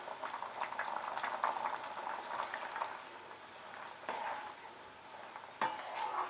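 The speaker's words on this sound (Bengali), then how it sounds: "হাই ফ্লেমে আমি এটাকে আরো 2 মিনিট ফুটিয়ে নিয়ে নামিয়ে নেব।" Vegetable soup topped with spring onions bubbling in a pot on a high flame: a quiet, steady bubbling with soft popping, plus a couple of faint utensil knocks, close and low in level.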